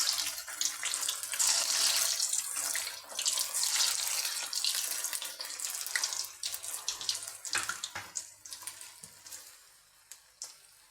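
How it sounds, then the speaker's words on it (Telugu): Vegetable balls deep fry in hot oil, a dense bubbling hiss that is loud at first and gradually thins into scattered crackles and pops over about ten seconds, with no talking. "ఇప్పుడు ఆయిల్ వేడాక బాల్స్ వేసి డీప్ ఫ్రై చేసుకుందాం"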